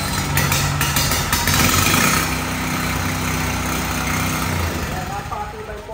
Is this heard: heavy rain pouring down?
no